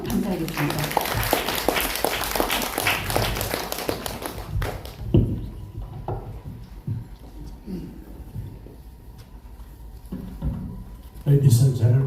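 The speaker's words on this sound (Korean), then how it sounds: "큰 박수로 맞아주시면 감사하겠습니다." Audience members at a literary writing seminar on AI applaud to welcome the chair. The clapping is brisk and fairly close, fades after about five seconds, and gives way to scattered taps, shuffling and a voice.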